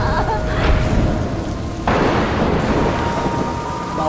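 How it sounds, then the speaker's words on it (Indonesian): Heavy rain pours down outside with rumbling thunder, a dense loud roar that shifts and swells partway through, with no voices over it. "Di luar hujan deras sekali."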